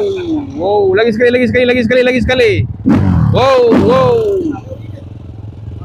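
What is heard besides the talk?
QJ Moto motorcycle engine revving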